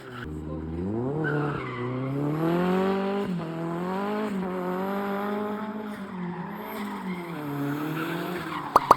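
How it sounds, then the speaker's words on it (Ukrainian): A Mercedes car doing a heavy tire warm-up, its tires skidding in a long wavering screech that rises and falls for several seconds, close and loud over engine noise. "Пішов потужний прогрів резини."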